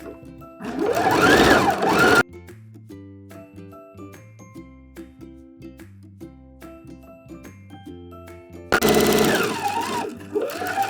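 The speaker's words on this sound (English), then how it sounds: "just keep sewing real close to the edge of where your cording is in there, and you can see the piping being created." A sewing machine stitches close along fabric wrapped around piping cord, loud fast whirring bursts at the start and end with a quieter stretch of soft tonal music between, no talk.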